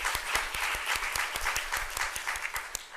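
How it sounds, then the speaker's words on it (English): An indoor event audience gives a round of applause, steady moderate clapping from a crowd with sharp individual claps standing out, no talk over it. "Let's give her a big round of applause."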